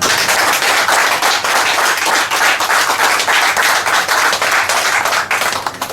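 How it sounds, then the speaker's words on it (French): A large crowd claps loudly at a football tournament ceremony in Cameroon, honouring a doctor and the town's mayor. Dense, sustained applause fills all six seconds at a steady volume. "nous tous, nous applaudissons très fort pour le docteur Nzitoua"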